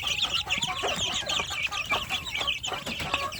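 Free-range village chicks in a plywood brooder box, a dense, continuous chorus of high peeping and clucking from many birds close by, with no talk.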